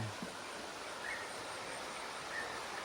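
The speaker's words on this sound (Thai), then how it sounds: "อันนี้น้ำตกธรรมชาติใช่ไหมคะ" A natural waterfall at Wang Kiang Khu in Phang Nga, passed on a bamboo raft trip, gives a soft, steady rushing hiss that stays faint and even throughout, with no talk.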